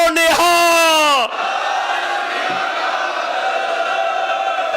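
A large rally crowd at a farmers' and workers' gathering roars a loud unified slogan response, a sustained chorus of shouting voices that swells briefly, then gives way to a lower, continuous crowd din.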